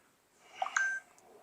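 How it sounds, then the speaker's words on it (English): Short electronic phone beeps in a quiet room, a few faint tones then a brief sustained beep, fairly soft and alone. "My phone keep beeping."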